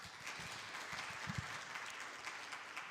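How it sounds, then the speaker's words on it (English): Symposium audience on climate and health applauds to welcome a speaker, a steady, fairly faint wash of many hands clapping with a few sharper nearby claps standing out early on. "please join me in welcoming him with a big round of applause"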